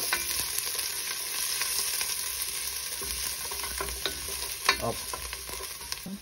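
Garlic sizzling in a hot frying pan for a pork stir fry, a steady moderate hiss with occasional stirring clicks and taps, close and with no talk.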